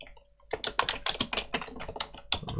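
A computer keyboard typing a new name for a Photoshop layer, a quick close burst of key clicks after a brief quiet start.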